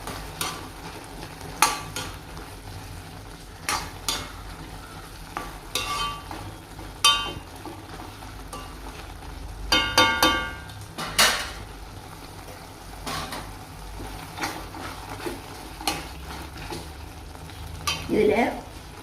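A spoon stirs tomato gravy with turmeric and chilli powder in a pan, with soft scraping strokes and a faint ongoing sizzle, and occasional louder knocks of the spoon against the pan.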